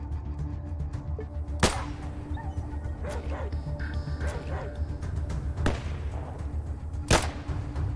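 Gunfire in a shootout in the video game ATOM RPG: a few sharp, loud single shots spaced several seconds apart over a busy background of game noise.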